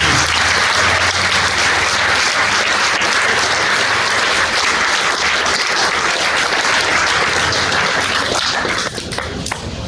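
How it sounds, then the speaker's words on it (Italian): A large audience claps loudly and steadily at an outdoor award ceremony, the Pelmo d'Oro, honouring Alessandro Rodati; the dense applause holds for nearly ten seconds and thins slightly at the end. "Un altro grande applauso ad Alessandro Rodati"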